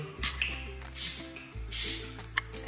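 A spray bottle misting water onto fabric during fabric painting, heard as a few soft hissing bursts in quick succession, quiet and close against a low background hum.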